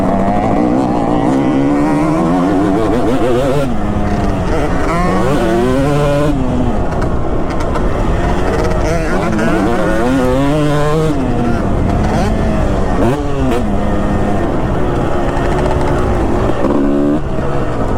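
A Kawasaki KX250 dirt bike rips around a woods motocross track, its engine loud and close throughout, revving and dropping in repeated surges as it accelerates and shifts.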